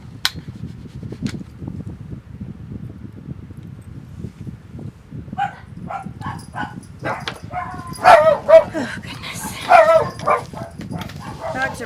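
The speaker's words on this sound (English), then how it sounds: "Dogs are barking." Dogs bark and yip in short bursts in the background, partly mixed with a person's speech and a steady low hum from a fan.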